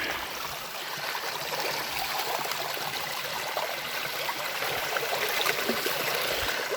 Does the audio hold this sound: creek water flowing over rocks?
yes